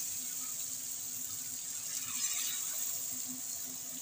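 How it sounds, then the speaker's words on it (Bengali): Water poured into a pan of fried potatoes, a steady hissing, splashing wash of liquid that swells slightly midway, close and continuous with no talk. "এবার আমি জল দিয়ে দিচ্ছি,"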